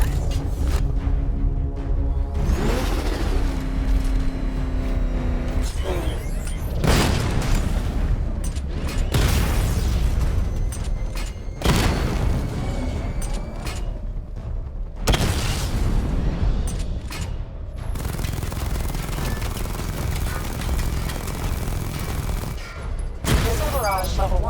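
Rapid volleys of missile barrage explosions in Batman Arkham Knight, loud booming blasts and gunfire-like bursts repeating in dense waves with brief gaps, continuous throughout.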